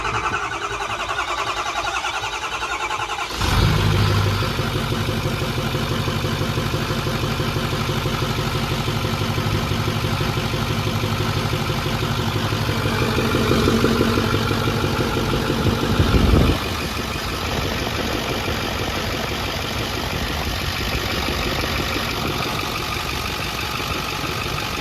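A 6.4 diesel truck engine runs with no air filter fitted, a steady loud idle that rises briefly in revs and settles back, continuous and close.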